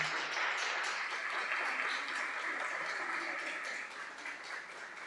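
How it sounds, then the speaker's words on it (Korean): A church congregation claps steadily in welcome at a Sunday worship service, a broad, even wash of many hands lasting several seconds and easing slightly toward the end, with no talk over it. "큰 박수로 환영하겠습니다."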